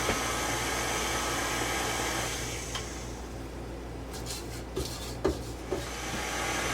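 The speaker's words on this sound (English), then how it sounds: "I'm going to give it a good scrape" Spatula scraping cake batter from the sides of a mixer bowl for mini strawberry Bundt cakes, soft rubbing scrapes with a few light knocks against the bowl, close and fairly quiet over a steady low hum, no talk.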